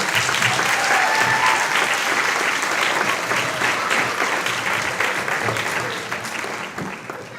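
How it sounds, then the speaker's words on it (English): A crowd at a board of education meeting applauds with sustained, dense clapping that continues steadily before gradually thinning out near the end. "Let's give her a round of applause."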